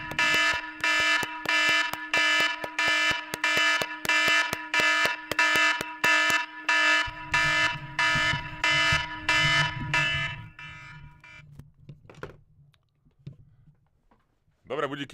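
An iPhone alarm clock ringing, loud rapid repeating beeps that cut off after several seconds, followed by rustling and faint voices.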